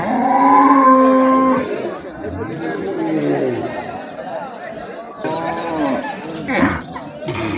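A cow lets out a long, loud moo at the start, followed by a busy crowd chattering nearby and more faint lowing at a cattle market in Netrokona, Bangladesh.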